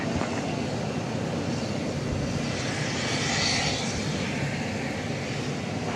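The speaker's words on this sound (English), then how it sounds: "So another wide body in our viewfinder here." A wide-body airliner at DFW Airport at night gives a broad, steady engine roar with a whooshing rush, distant but filling, holding evenly throughout.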